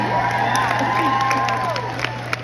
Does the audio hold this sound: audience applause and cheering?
yes